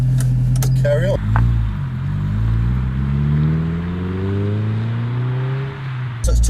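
A Honda S2000 engine cranks, catches and revs up, its loud roar rising and falling before settling, close by, with a brief voice at the start.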